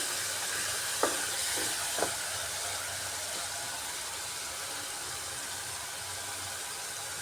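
Powdered spice masala sizzles steadily in oil and a splash of water in a pan, a continuous hiss with a few soft clinks of the stirring spoon early on.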